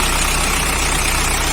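A wrecker truck's engine idles steadily and close by, a continuous low rumble with a constant harmonic drone and no voices.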